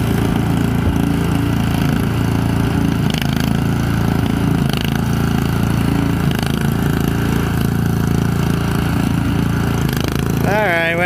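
A Honda HS 720 snowblower runs steadily and loudly close by as it shoves through deep, drifted, hard wet snow, its engine drone continuous throughout.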